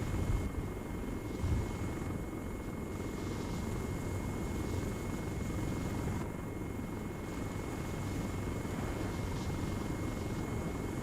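Steady helicopter rotor and engine drone from a transport helicopter coming in to land in the military game Arma 3, loud and continuous throughout with no talk.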